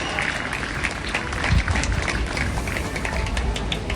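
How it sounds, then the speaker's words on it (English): A crowd claps at a school sports meet in a stadium, giving a big round of applause: dense, continuous clapping at steady loudness throughout. "A big round of applause."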